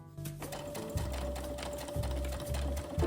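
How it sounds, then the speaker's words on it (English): A sewing machine stitching a quarter-inch seam along the bottom of a small fabric tote bag, running in a steady close mechanical whir with a few brief pauses and restarts. "Now you're gonna sew a 1/4 inch on the bottom."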